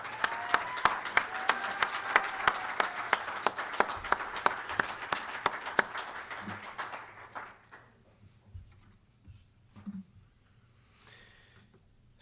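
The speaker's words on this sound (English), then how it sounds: "I think we should give them another round of applause" Audience applause at a graduation pinning ceremony for physical therapist assistants, a dense clapping crowd filling the room for about six seconds before thinning into scattered claps and fading to quiet room noise.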